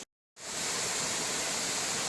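A mountain creek near the top of Ellicott Falls rushes in a steady, dense hiss of flowing water, starting after a brief silence and continuing evenly.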